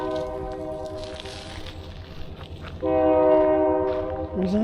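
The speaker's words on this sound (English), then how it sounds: "Where's that train? I wonder if he's coming back." A train rumbles past along the Montour Trail, its steady roll building as a loud, sustained multi-tone horn sounds near the end and rises in strength over the engine noise.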